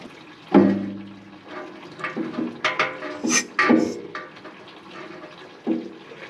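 Water draining out of an open petcock, irregular splashing and gurgling bursts, close and fairly quiet, with short pauses between surges.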